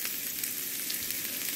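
Garlic fries in hot oil with a steady, close hiss and crackle that holds evenly throughout, no voices over it.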